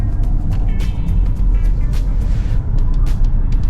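A twin-engine all-wheel-drive car with front and rear motors drives on a busy racing circuit, giving a loud, steady low engine drone with occasional sharper bursts, heard close and continuous.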